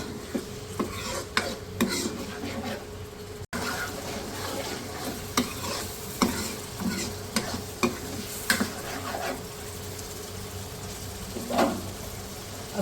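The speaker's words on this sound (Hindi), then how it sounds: "दाल को 1 से 2 मिनट भूनते हैं इस मसाले के साथ" Moong dal roasting with masala in a hot pan, a steady soft sizzle broken by repeated scraping stirs of a spoon, close and continuous with no talking.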